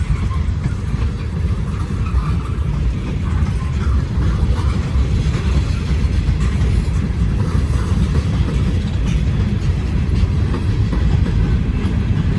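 A long CSX freight train rolls past close by in a continuous, loud low rumble with rhythmic wheel clatter that holds steady throughout.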